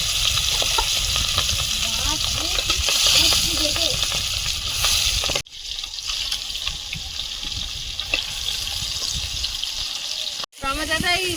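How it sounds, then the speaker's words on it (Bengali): Pieces of boal fish fry in oil in a pan with a loud, continuous close sizzle and crackle, broken by stirring scrapes and two brief cut-outs. "বল মাছ ভাজার সময় বেশি তেল দিলে বেশি ফাটে"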